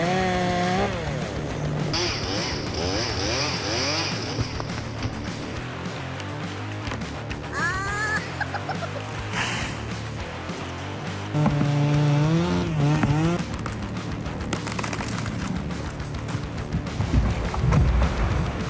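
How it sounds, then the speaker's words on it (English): A big chainsaw runs loud and close with a harsh continuous engine buzz and whining chain, its pitch rising and falling as the throttle changes, with no talk over it. "When the engine runs, the chain spins at high speed, cutting through it effortlessly."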